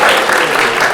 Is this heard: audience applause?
yes